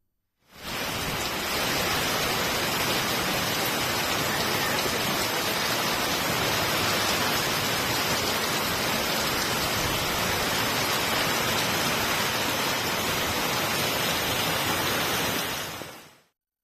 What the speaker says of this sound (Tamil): இடி மின்னலுடன் மழை பெய்ய தொடங்கியது. இதனால் சாலையில் மழைநீர் பெருக்கெடுத்து ஓடியது.